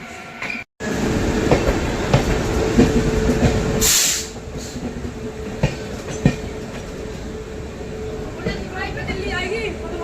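A Sambalpur–Jammu Tawi Express passenger train rushes past close by in rain with a loud rumbling roar and rattling wheels, a brief squeal of brakes or wheels cutting through midway.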